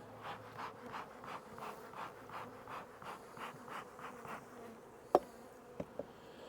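Honey bees in an opened hive during spring checks before April splits, with a steady low buzz that swells in regular pulses, and a few sharp knocks near the end.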